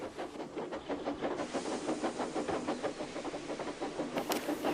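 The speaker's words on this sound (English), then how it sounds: "Just then, Henry passed by with a slow train." A steam engine hauling a slow train rolls past, a steady rhythmic chuffing with hissing steam and rail clatter held at an even, fairly close level throughout, with no talk.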